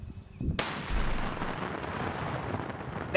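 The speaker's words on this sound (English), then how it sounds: "That explosion don't play though." A sudden heavy blast from a military line-clearing charge goes off about half a second in, then a long rolling rumble and debris roar trail on at close range, with no voices.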